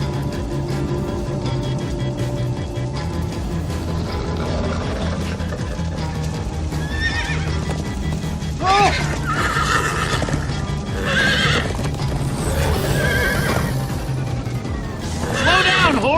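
Horse in the Minecraft: Story Mode game galloping with continuous clip-clop hoofbeats under music and voices, several loud whinnies breaking out in the second half.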